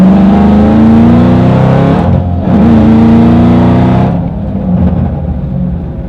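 A 2010 Shelby GT500 Mustang with 660 horsepower roars loudly through a hard full-throttle pull, its engine pitch climbing steadily before dropping at gear shifts around two and four seconds, then climbing again.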